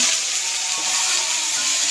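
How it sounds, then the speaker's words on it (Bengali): Steady sizzle of water poured into a pan of onions and chillies fried until red, a continuous bright hiss with some bubbling, close up and alone. "পেঁয়াজ আমার লাল হয়ে গেছে, এখন একটু পানি দিয়ে নেই।"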